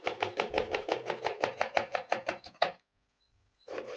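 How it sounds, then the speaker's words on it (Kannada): About fifteen crisp knife chops through an onion on a board come in a quick even rhythm, close and loud, then a short silence before a few more chops resume. "ಈಗ ಉಳ್ಳಾಗಡ್ಡೆ ಹೆಚ್ಚಿಕೊಳ್ಳೋಣ"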